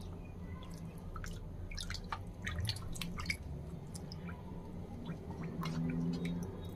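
Water drips and trickles in small, irregular splashes as a cloth is dampened, a scattering of close, crisp drops over a quiet background.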